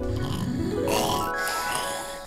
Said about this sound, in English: Ah, he snores so loud.